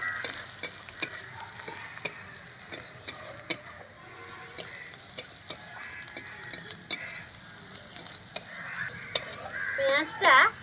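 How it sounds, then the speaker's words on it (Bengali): Onions frying in a wok with asafoetida, stirred with a utensil, giving a steady soft sizzle broken by repeated scraping clicks and knocks throughout. "তো আবারও আমি নাড়িয়ে নিচ্ছি।"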